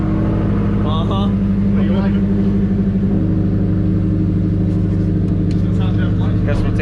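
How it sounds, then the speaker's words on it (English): A loud, deep car engine rumbles steadily throughout, with brief voices talking over the throaty idle. "that car is a little loud"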